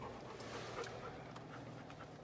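A dog panting steadily and continuously at close range outdoors, the quick breathy rhythm running the whole time over a low wind-like background.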